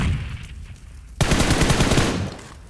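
Rapid automatic rifle fire from a PUBG match erupts loud and close after a quieter opening, a dense sustained spray of shots that rattles on without pause before tapering slightly at the end.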